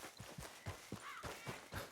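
Rhythmic hoofbeats clip-clop steadily as a horse walks along at a moderate, even pace in the game Red Dead Redemption 2, fairly quiet and with nothing else over them.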